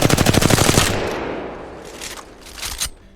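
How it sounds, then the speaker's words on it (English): A weapon fired in Apex Legends at a wall: a loud, rapid automatic burst of close gunshots for just under a second, then a decaying echo and a couple of softer clatters. "You can learn any recoil pattern by simply just firing that weapon at the wall here."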